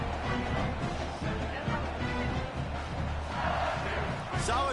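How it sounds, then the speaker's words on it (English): Crowd in a College Football 27 stadium game, a dense continuous roar of yelling and screaming fans that swells and surges under commentary voices. "for an entire game, they are on their feet, yelling, screaming"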